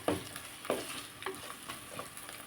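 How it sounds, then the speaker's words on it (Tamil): Curry leaves sautéing in a pan for drumstick curry, with a few distinct stirring scrapes roughly every half second over a faint background sizzle, close by and without any voices. "இது கொஞ்சம் வதங்கிட்டு இது கூட கருவேப்பிலை ஆட் பண்ணிக்கலாம்"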